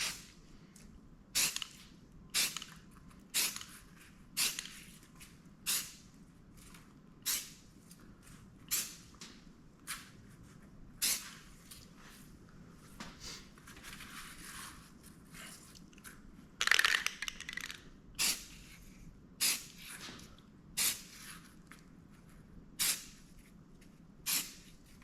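Aerosol spray paint can hissing in repeated short bursts while a rifle is painted, about two bursts a second, close and fairly loud, with a longer spray midway and no talking.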